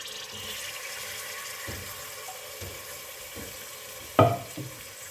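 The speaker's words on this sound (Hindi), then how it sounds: "चिकन, उसको फ्राई कर लेंगे" Chicken pieces fry in a pan for a degi chicken korma, a steady close sizzle and bubbling hiss with a louder clattering burst near the end, no voices.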